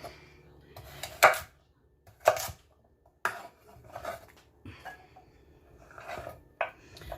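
Baby carrots lined up and cut into thirds with a knife on a board, several sharp separate chops spaced unevenly among quieter handling clatter, close and clear.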